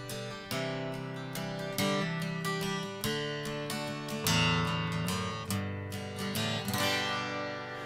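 An Epiphone Dove Pro acoustic guitar played unplugged, with strummed chords and picked notes ringing in a steady rhythm, clear and close with no talking.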